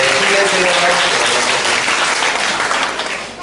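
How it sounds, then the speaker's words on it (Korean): A room full of people clapping together at a children's Sunday church service, loud and sustained, fading slightly toward the end. "우리 힘내라고 박수 한번 해줄까요?"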